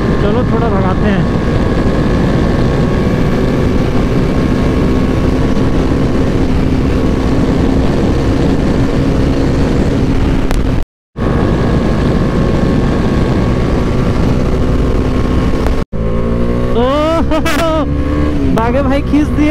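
Two Kawasaki Ninja ZX10R superbikes accelerate hard, a loud, steady engine roar with rising gear pulls, a brief cut in the middle and a sharp rev sweep near the end; wind buffeting runs throughout.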